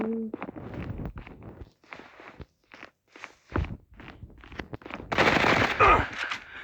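Video game gunfire comes as scattered sharp shots and short bursts amid footstep-like thuds, ending in a louder, denser stretch of fire, with no talk over it.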